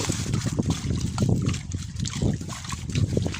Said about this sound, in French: Et ça coule tout le long de la petite rigole.